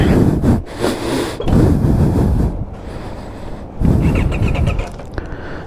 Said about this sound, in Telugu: ఇంజన్ లేదు, సౌండ్ వస్తుంది స్టార్ట్ చేసిన ప్రతిసారి.